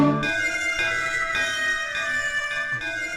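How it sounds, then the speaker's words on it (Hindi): A bell rings in clear, sustained metallic tones that hang and decay, struck again about once a second and sounding close and fairly loud. "वो घंटी बजा रही है"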